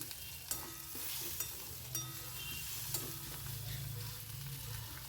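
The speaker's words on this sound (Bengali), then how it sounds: "কাঁচা লঙ্কা দিলাম ফোড়নে" Green chilies and ginger paste sizzling in hot tempering oil for a bottle gourd and fish-head ghonto, a continuous soft frying hiss with a few light clicks of a spoon, close but quiet, no talking.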